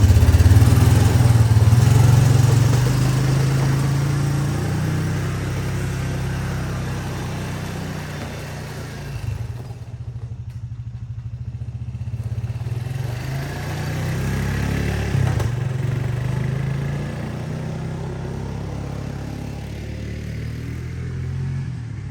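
A Honda Foreman 500 ATV engine idles steadily up close for a long stretch while warming up, a low loud throbbing rumble that dips briefly midway before settling back into its even drone.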